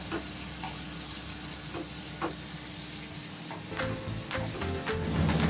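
Salted, chopped tomatoes fry in a pan for chicken biryani, giving a steady close sizzle with soft scraping stir strokes layered over it.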